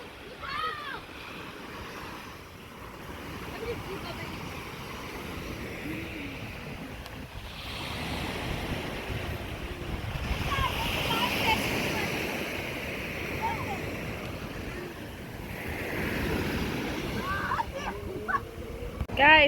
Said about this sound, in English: Alright guys, we are here on the beach day